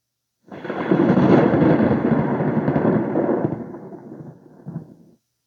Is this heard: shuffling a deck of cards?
no